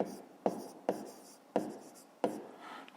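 Pen writing a math answer on paper in a classroom exercise, four short scratchy strokes with pauses between, close and fairly quiet, with no speech.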